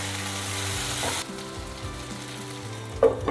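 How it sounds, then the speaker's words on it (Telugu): Onions and potatoes fry in hot oil with a steady broadband sizzle; about a second in, the sizzle drops sharply quieter, then continues softly with a few stirring knocks and a brief louder burst near the end. "ఉల్లిపాయలు వేగుతున్న టైంలోనే మనం ఆలుగడ్డల్ని వేసి ఒక 1 మినిట్ ఇలా వేయించి"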